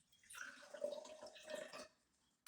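Drink poured from a stainless steel cocktail shaker of a bartender kit, a steady close liquid stream splashing for about two seconds, then stopping, with a brief clink at the end.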